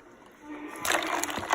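Cold water splashes and sloshes while beef liver is rinsed for laab, starting softly and growing into a busier, close splatter over about a second.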